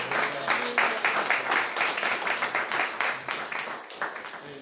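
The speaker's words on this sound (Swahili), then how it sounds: "Let's stand on our feet as we welcome Bishop with a big clap." A church congregation at a Sunday service applauds to welcome the bishop, with dense, continuous clapping in uneven waves that stays fairly loud throughout, joined by some voices.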